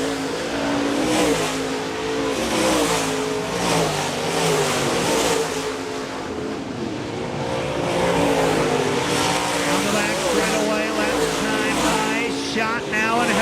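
Dirt-track race cars at Park Jefferson Speedway roaring around the oval in heavy lap traffic, engines loud and continuous with rising and falling revs as cars pass, under a steady race commentary voice.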